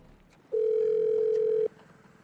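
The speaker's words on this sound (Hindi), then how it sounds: "फोन करके पूछती हूँ कहाँ पहुंचा।" A telephone dial tone sounds as a call is placed, one steady, loud, unbroken pure tone lasting just over a second over quiet room background.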